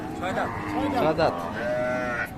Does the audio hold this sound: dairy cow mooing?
yes